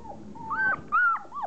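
Soft whimpering cries of three-week-old puppies rise and fall in short, high squeaky bursts, three or four whines close by with faint background noise.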